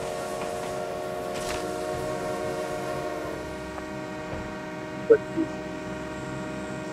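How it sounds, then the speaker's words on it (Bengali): A train in the mobile battle game BGMI rumbles steadily with a sustained horn-like tonal drone that fades partway, followed by a couple of brief sharp clicks over continuous mechanical running noise. "ওই তো আবার ট্রেন চালু হয়ে গেছে"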